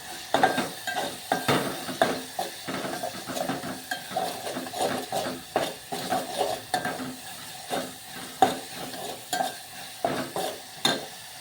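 Spices being dry-roasted and stirred in a pan, with a steady sizzle cut by rhythmic scraping strokes of a spatula every second or so, close and clear with no talking.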